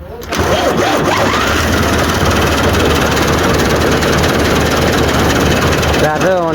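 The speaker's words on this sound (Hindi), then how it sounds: "ट्रैक्टर ऑन किया, चेक करो।" A tractor engine starts and settles into a loud, steady rumbling idle close by on a village farm, with people talking over it throughout.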